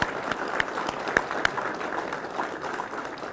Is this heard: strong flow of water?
no